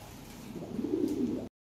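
A pair of yellow Lahori pigeons gives a soft, low, rolling coo, one short burst that swells near the close and stops abruptly.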